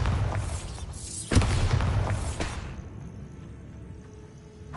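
A Bombarda explosion spell goes off in Hogwarts Legacy, a deep booming burst followed by a rumbling tail and a second sharper crack, then the game's ambience fading out.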